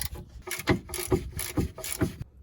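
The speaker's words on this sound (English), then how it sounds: "Now we can use the ratchet." Rapid ratchet clicking as a 15mm socket turns the ball joint bolts on a Ford Focus hatchback, several short bursts of sharp ticks in an even rhythm, close and clear with no talk.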